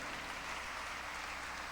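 Church congregation applauding for Jesus during a sermon, a faint, dense patter of clapping held steady throughout.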